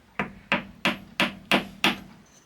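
Six sharp, evenly spaced taps of a small hammer striking a pin into wood, close and fairly quiet, with nothing else in between.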